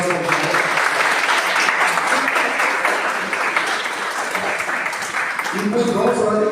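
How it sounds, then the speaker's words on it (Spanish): Audience applause at a panel discussion on history, rights and inclusion, steady clapping with a voice speaking over it near the end. "Un aplauso."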